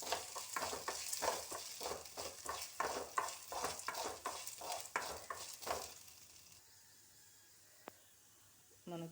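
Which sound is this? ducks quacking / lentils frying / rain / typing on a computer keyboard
lentils frying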